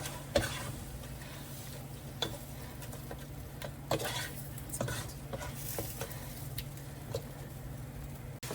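Ground beef mixture for lasagna stirred in a pot, with a steady soft scraping and sizzling and occasional light clinks of a utensil against the pot, close-up with no voices.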